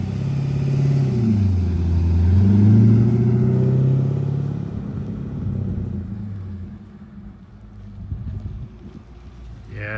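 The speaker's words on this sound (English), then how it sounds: "All right, Jim, let's go for a little ride." A 2003 Chevrolet Corvette Z06 drives off, its engine rumbling loudly and swelling through a couple of revs before settling into a quieter, lower drone as the car moves away.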